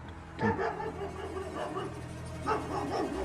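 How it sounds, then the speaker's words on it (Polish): Dogs barking at night near an abandoned house, a few short yips and barks at moderate distance with pauses between them, no talk over them. "Ej, psy tam są, czekaj."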